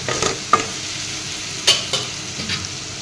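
Baking soda is stirred into jute leaves in a pan, giving a soft sizzle with a few sharp scrapes and clacks of a spoon against the metal; no voices.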